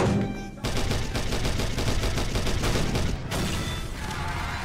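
Sustained rapid gunfire from an SMG4 animated cartoon of Mario versus Skibidi Toilet, a loud, dense string of automatic shots with booming hits, briefly cutting out before the firing resumes.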